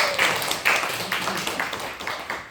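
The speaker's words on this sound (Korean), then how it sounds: "우리 박수 부탁합니다" A church congregation claps in welcome for a visitor during a service, a brief patter of scattered hand claps from a modest crowd, fairly soft and fading over a couple of seconds.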